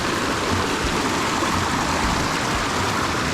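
River water rushes steadily over rocks in a Zambales river, a broad, continuous wash close by with no voices, holding an even level from start to end.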